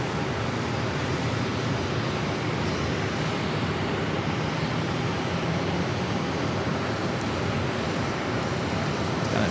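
An American Airlines jet descends to land at Phoenix Sky Harbor with its landing gear down, heard as a steady, broad engine roar held at an even level throughout, with no voices.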